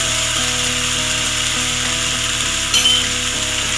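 Chopped tomatoes fry in a pan for a pointed gourd masala gravy, giving a loud, steady sizzle close up, with a brief scrape of stirring near the end and no talking.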